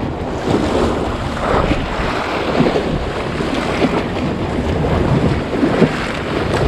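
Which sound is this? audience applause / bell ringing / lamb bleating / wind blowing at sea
wind blowing at sea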